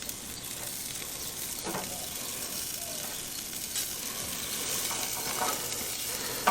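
Fajitas and flanken style ribs sizzling on a grill, a steady crackling hiss with occasional pops and faint scraping, close and moderately loud without talk.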